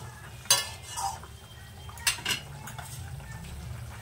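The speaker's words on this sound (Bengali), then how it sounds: "আস্তে একটু খুন্তি দিয়ে নাড়া দেবো" A spatula stirs a pot of potato and tangra fish curry with peas, giving a few soft scrapes and light clinks against the pot over a faint background simmer.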